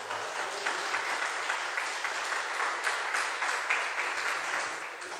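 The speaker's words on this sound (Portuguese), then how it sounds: "Você pode dar um aplauso ao Senhor Jesus?" Church congregation applauding during a worship service, a steady, dense wash of clapping held at an even level for about five seconds with no voice on top.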